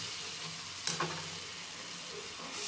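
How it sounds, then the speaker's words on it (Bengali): Tomatoes frying in a pan on low gas, stirred until they soften, with a steady close sizzle and a brief scrape of the spoon midway. "দিয়ে এইভাবে নাড়াচাড়া করে নিতে হবে টমেটোটা যতক্ষণ না গলে যাচ্ছে"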